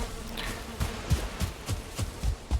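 Bees buzzing in the video game Valheim, a soft steady insect drone with a series of rhythmic low thumps, fairly quiet and alone.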